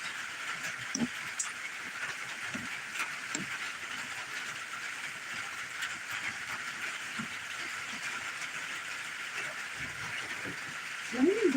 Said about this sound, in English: You can see some of the rain up there spewing off the top.